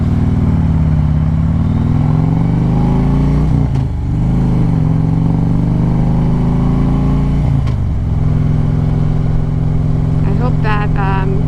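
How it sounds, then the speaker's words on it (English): Loud, continuous engine drone from a Harley-Davidson Street Glide exhaust rising and falling as it revs and shifts while riding, with a short voice near the end. "I hope this time you guys can hear my exhaust."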